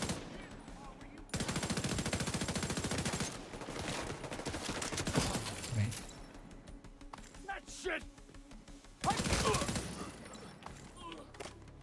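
Video game gunfire in long automatic bursts, loud and steady, stopping and starting again, with a person talking in the quieter gaps between volleys.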